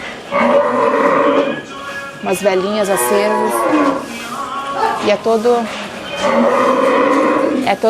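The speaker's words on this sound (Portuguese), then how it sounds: "E a gente pode ver muitas vacas nas ruas também." Cattle low on a street in India, drawn-out moos rising and falling across the clip at close range, with a person talking in Portuguese in between and over them.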